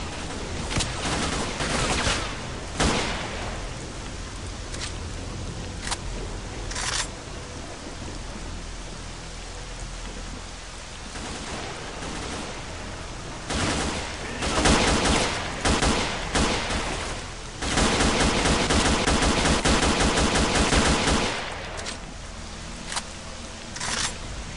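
Gunfire in a survival scavenging video game, bursts of rapid shots crackling at varied distances over a steady rain-like wash, with heavier dense volleys around the middle and later in the stretch, no talk.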